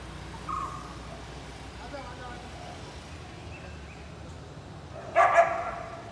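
A dog tells off another dog during a conflict: a low background hum holds for several seconds before a sudden, loud burst of sharp barks near the end.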